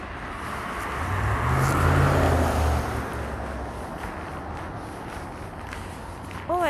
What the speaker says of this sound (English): But so many cars on the road.